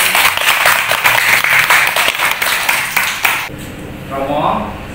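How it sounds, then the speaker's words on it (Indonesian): A crowd at a parish Advent meeting claps in dense, lively applause for a few seconds, then it stops abruptly and a voice begins speaking. "Tepuk tangan."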